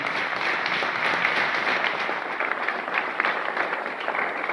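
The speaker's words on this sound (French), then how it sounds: "vous pouvez applaudir" Audience applause at a French political meeting, a fairly distant, even wash of many hands clapping that continues without a break.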